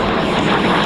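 Close, loud roar of an A-37 Dragonfly jet at the Australian International Airshow, a brief steady engine blast with no voices.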